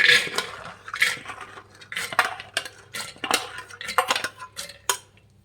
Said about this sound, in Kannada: ಒಂದು ಕುಕ್ಕರ್ ತೊಗೊಂಡಿದ್ದೀನಿ ಫ್ರೆಂಡ್ಸ್ ಕಡಲೆಕಾಳು ಹಾಕ್ಕೊತ ಇದ್ದೀನಿ